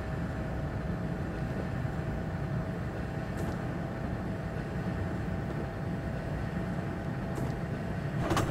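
A high-speed train running by itself in a train simulator video game, a steady broadband rumble and rolling hiss with a faint tonal hum and two brief high clicks, no talk.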